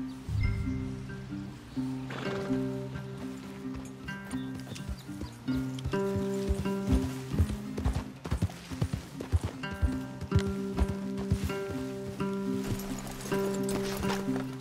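Steady clip-clop of horse hooves at a walking pace in Red Dead Redemption 2, with tones and chords droning underneath throughout.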